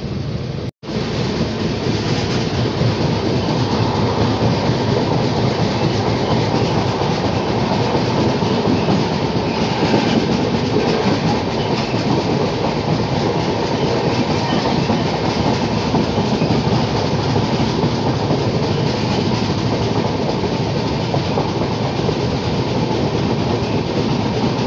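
Steady, loud rumble and rhythmic clatter of the wheels as the Bapudham Express passenger train runs on the rails between Banaras and Muzaffarpur, heard from on board, with a brief break near the start and no voices.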